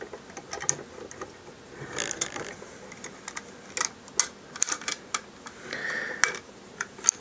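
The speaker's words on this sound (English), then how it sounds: "The bolt and carrier go onto the action bars." Metal parts click and slide as the bolt and carrier of a Remington 870 slide-action shotgun are fitted back onto the action bars, scattered sharp ticks and scrapes at close range with a quiet pause between them.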